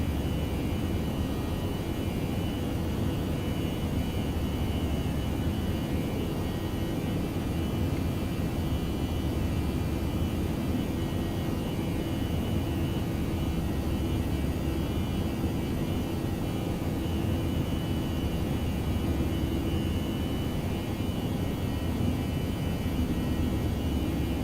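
Jet engines of an Airbus A321 climb after takeoff in the X-Plane 11 flight simulator. A loud, steady broadband roar with a low rumble holds without a break for the whole stretch.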